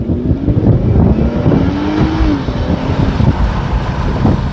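Infiniti Q50 3.0 car accelerating in its normal, non-sport mode: a steady, loud engine drone with a rising pitch that climbs and then eases as it shifts, running continuously with no talking.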